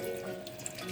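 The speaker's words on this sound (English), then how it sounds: "I'm gonna rinse it off." Water runs steadily from a kitchen tap while mint leaves are rinsed, a close, continuous splashing wash that lasts under a second with no voices.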